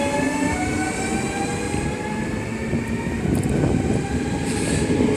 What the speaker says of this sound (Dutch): Dit is de ene laatste trein naar Vlissingen.